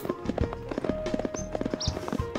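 Horse hooves clip-clop rapidly and unevenly as a rider gallops along a trail in a video game, close and steady under light game sounds, with no talking.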